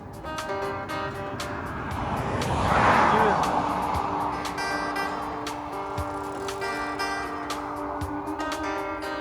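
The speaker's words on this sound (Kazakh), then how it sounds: "Машина келе жатыр." A car approaches along a road in Austria, its rising whoosh peaking briefly before fading again over a steady tonal hum and faint background voices.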